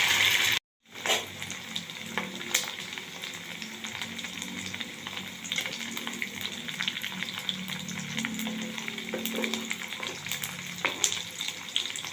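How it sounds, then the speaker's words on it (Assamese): Steady sizzling and crackling of corn kebabs frying in a nonstick wok, continuous and close, with a brief gap of silence near the start. "বৰাকেইটা ভাজিবৰ কাৰণে মই এখন কেৰাহী লৈছোঁ ননষ্টিকৰ। ইয়াতে মই ফ্ৰাই কৰিম।"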